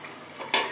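A lid set down over a pan of eggs cooking for a home egg recipe: one short, bright metallic clank near the end after a faint kitchen hiss.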